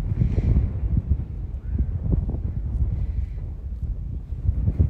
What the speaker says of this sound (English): It's a bit windy here. I hope that's not interfering with the video.